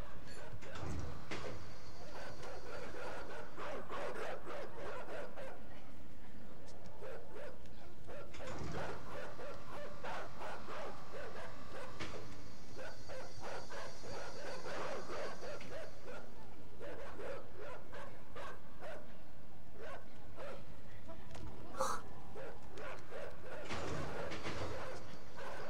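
Dogs bark in the video game Inside, repeated sharp barks over a dense, continuous game soundscape with rumbling background, the barking spread through much of the stretch and fairly loud.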